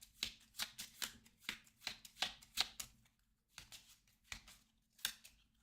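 Eldritch Horror game cards are shuffled by hand in a quiet room, producing about a dozen crisp riffling bursts, close and alone, with short pauses between runs.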